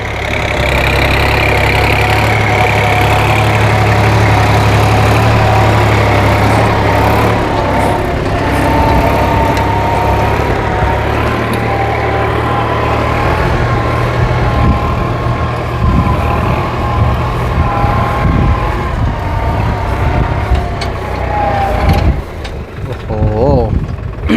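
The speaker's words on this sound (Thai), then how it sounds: "น้ำเสียงเนี่ยเป็นเอกลักษณ์ของ ดิวฮอลแลนด์เลยครับ ค่อนข้างที่จะกระหึ่มน่าดูนะครับผม" A New Holland TT3.50 tractor out plowing in low third gear holds a deep, steady engine rumble, loud and close for the whole stretch, with voices talking over it.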